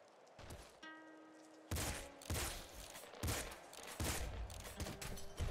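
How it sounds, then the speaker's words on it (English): Kraken pistol firing in the top-down shooter Nuclear Throne: a steady run of fairly quiet, close shots in quick succession, each burst cutting in sharply, with a short tonal game chime near the start and no talk. "Kraken pistol is pretty good."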